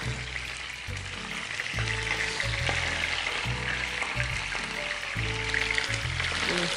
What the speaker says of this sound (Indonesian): Ini mami gorengnya pakai api sedikit, pakai minyak sedikit ya. Tapi apinya besar.